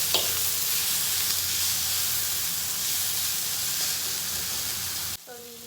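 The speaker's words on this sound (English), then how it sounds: "Once the garlic and ginger starts to brown a bit, I'll add in my tomatoes. And keep stirring again." Garlic, ginger and tomatoes fry and get stirred in a pan, giving a steady, close sizzle with faint scraping throughout, ending in a short clatter.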